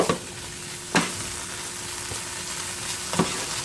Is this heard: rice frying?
yes